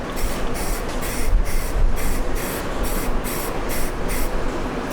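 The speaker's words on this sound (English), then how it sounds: "Now, we'll shoot it with some acid etching primer." Acid etching primer sprayed from a can onto 1982 Ford F150 4x4 suspension parts, a series of close, loud hissing bursts in a regular rhythm of about ten short pulses, with no talking.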